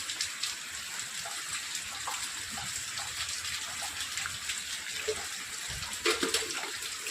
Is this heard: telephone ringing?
no